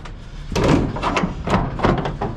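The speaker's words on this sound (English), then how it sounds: "always shut this door when you got cattle" Heavy clanks and thuds as a cattle truck door is shut and latched, several metallic knocks over a rumbling background.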